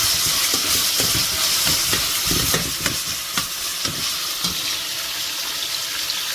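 Steady hiss of fish sizzling and frying in a pan, with occasional utensil scrapes and clicks over the continuous crackle.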